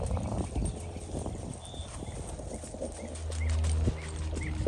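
A Tennessee Walking Horse being ridden in gaited training: clip-clop hoofbeats fall in an even rhythm close by, with a brief whinny and some background rustle, and no talk over them.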